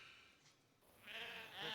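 Sheep and goats bleat faintly, a few brief thin calls from livestock rising toward the end, with no talk over them.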